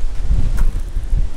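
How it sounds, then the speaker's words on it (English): Wind blowing outdoors beside a motorhome, buffeting the microphone in low gusty rumbles with a faint brief rustle, close and loud, with no talk. "it's a tad windy."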